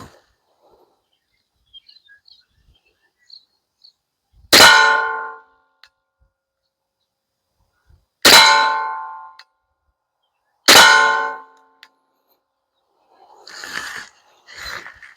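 Rifle rounds strike a steel target in three loud, sharp clangs, each ringing out briefly before fading, spaced a few seconds apart, with a softer rustle near the end.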